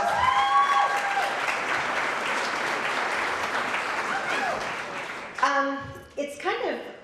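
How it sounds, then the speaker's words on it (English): Sustained applause from an audience at a chamber of commerce awards ceremony, steady clapping that fades after about five seconds, followed by a few voices and whistles. "give her a round of applause"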